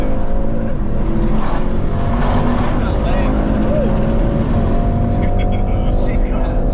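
Porsche Cayenne E-Hybrid SUV accelerating hard to 65 mph, a loud continuous engine and road roar from inside the cabin, steady and rising, with no clear breaks.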